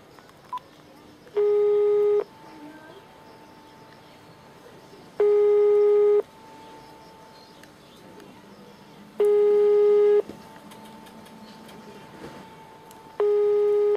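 A telephone call to a fan: a steady tone runs under four evenly spaced loud, harmonic ringback bursts, each lasting about a second, with faint room noise between them.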